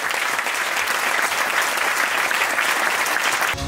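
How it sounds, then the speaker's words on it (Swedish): A big, steady round of applause from an audience at a corporate bank leadership day, full and sustained throughout, cutting off abruptly at the end. "En stor applåd."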